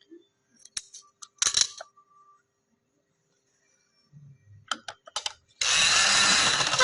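Scattered clicks and fabric handling give way to a home sewing machine running a second line of double stitching on a full-sleeve garment. The machine whirs loud, steady and close until the end.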